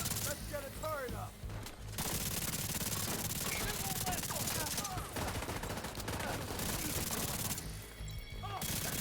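Turret firing in a video game, rapid and continuous gunfire close up and loud, with brief lulls between bursts and some game noise mixed in.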